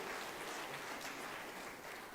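Steady, dense applause from a large crowd at a state-level employment day event in Bhopal, continuous and even throughout without any break or talking.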